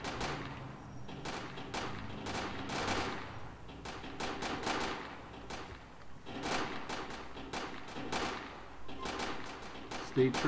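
Rapid bursts of automatic gunfire from a shots-fired call in the LCPDFR police video game, sharp cracks repeating in clusters at moderate volume with faint voices underneath.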